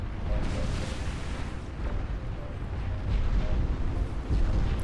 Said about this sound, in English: And you sunk my battle cruiser. Down it goes. Crashes into the water.